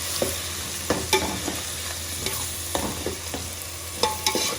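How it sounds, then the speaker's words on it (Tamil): Ground onion paste sautéing in a pan for a Thoothukudi-style fish curry, with a steady sizzle broken by repeated scraping stirs of a spatula, close and without talk. "அரைச்சி வச்ச வெங்காயத்தை போட்டு கொஞ்சம் வதக்கிடணும்"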